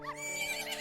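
Epona, the horse from the video game Zelda: Majora's Mask, lets out a short, close whinny that lasts under a second, clear and alone.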